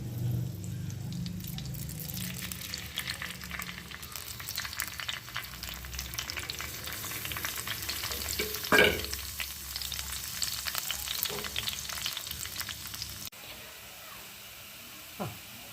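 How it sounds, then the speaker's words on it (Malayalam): Fenugreek seeds fry in hot coconut oil, a steady close crackle with stirring scrapes and a few sharp clinks, turning quieter near the end. "ഈ വെളിച്ചെണ്ണ ഒന്ന് ചൂടായിട്ട് വരുമ്പം ഉലുവ ഇട്ട് മൂപ്പിച്ചെടുക്കണം"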